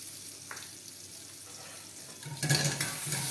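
Garlic and chopped onions sauté for a wild mushroom risotto, starting as a quiet sizzle that grows louder and brighter about two-thirds of the way through, as if stirred or moved in the pan.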